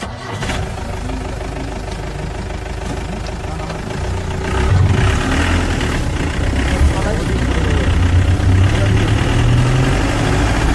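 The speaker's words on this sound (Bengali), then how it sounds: "প্রচন্ড আওয়াজ করে ইঞ্জিন" A loud, rough old Land Rover engine rumbles nearby and grows heavier partway through, a deep steady drone with voices talking over it, in a Himalayan village.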